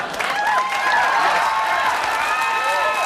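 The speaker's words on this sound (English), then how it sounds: "I don't think they're applauding for the storm." A studio audience at a 1993 taping of the sketch comedy show Almost Live applauds steadily, with whistles and cheers cutting through the dense clapping for the full few seconds.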